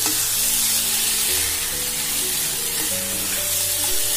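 Kadhai paneer masala fries in a pan after salt and turmeric are added, giving a steady, close, continuous sizzle with faint stirring and no talking.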